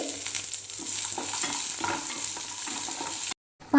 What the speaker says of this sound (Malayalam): ഈ പാനിലേക്ക് കുറച്ച് നെയ്യ് ഇട്ട് കൊടുക്കാം അണ്ടിപ്പരിപ്പ് ഒന്ന് റോസ്റ്റ് ചെയ്തെടുക്കാം